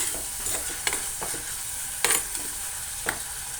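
Tomatoes with salt sizzle in a hot pan for fish curry, a close steady frying hiss broken by several sharp scraping stirs of a spoon.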